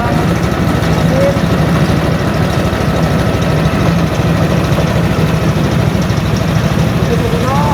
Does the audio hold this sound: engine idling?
yes